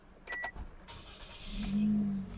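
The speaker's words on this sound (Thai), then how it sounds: "ขออนุญาตสตาร์ทรถให้ดูแล้วกันนะ" A 2023 Toyota Yaris 1.2 Sport engine cranks and catches, settling into a low steady hum after a few brief clicks and rustles.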